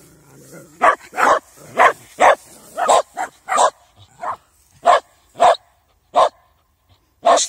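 Dogs bark in a run of loud, sharp barks with short pauses, a dozen or so close by, with a few quieter yips between them.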